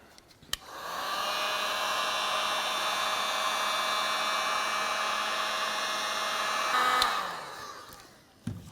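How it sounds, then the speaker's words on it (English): A heat gun warming the nameplate adhesive on a 2004-2015 Nissan Titan truck grille gives a steady, loud, close whooshing blower hum with a faint whine, running alone for about six seconds between soft clicks as it switches on and off. "I'll use a heat gun. I'm going to try to heat this up."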